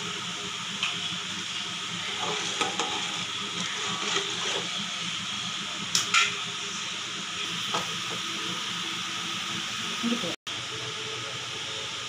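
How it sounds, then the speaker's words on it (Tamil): Salted water for wheat rava upma boils in a pot, a steady bubbling hiss running throughout with a few faint clinks and a short break near the end. "நல்லா கொதிச்சிருச்சு."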